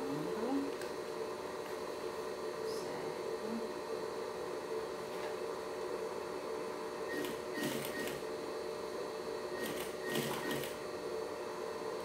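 A sewing machine runs steadily at low level while stitching a necessaire, a soft continuous mechanical hum with a few faint clicks and ticks over it.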